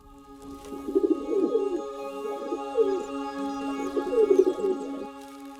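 A pigeon coos nearby in three soft rhythmic bouts over a steady low background hum.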